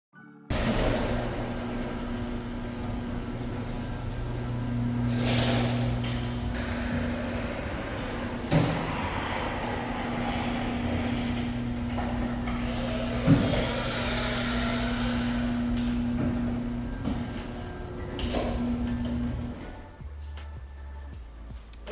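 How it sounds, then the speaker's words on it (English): A garage door in a newly built luxury house rolls open with a steady motorized hum and rumble for about twenty seconds, with a few clunks along the way before it stops. "you probably want to know how loud these garage doors are for a new construction house"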